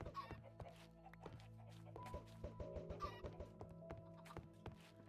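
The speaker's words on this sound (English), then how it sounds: "I wonder why there's so many chickens." Many chickens cluck in the game Forever World, with short, scattered clucks mixed with soft thuds and knocks at low volume and no voices.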